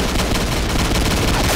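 An ACR rifle fires in Combat Arms, a dense, loud, continuous burst of rapid automatic gunfire that fills the whole moment with no voice over it.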